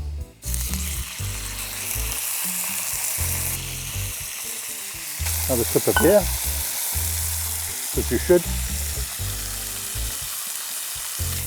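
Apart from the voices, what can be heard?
chicken frying in a pan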